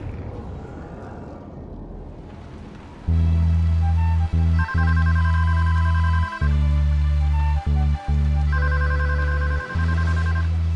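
A telephone ringing over a line, loud sustained ring tones in a steady repeating pattern with short breaks, preceded by a few seconds of dull background noise.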